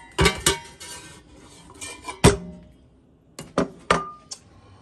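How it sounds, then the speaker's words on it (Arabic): Meat going into a cooking pot while preparing Algerian couscous: sharp clanks and clinks of metal pot and utensils in several separate bursts, close and fairly loud, with no talking. "جبت البلمه ديالي، نحط اللحم"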